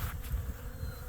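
Honey bees buzz steadily and close at a horizontal Layens hive in a backyard apiary, a continuous droning hum with no voices.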